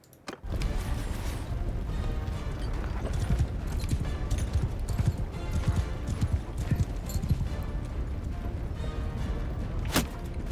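Horse hooves clip-clop steadily in Mount & Blade II: Bannerlord, a brisk, continuous rhythmic beat close up with a sharp clash near the end and no talk over it.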